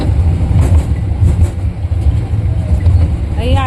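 Toy train ride in Daman, a steady low rumble of the moving train running throughout, with voices talking alongside and a brief rising squeal near the end.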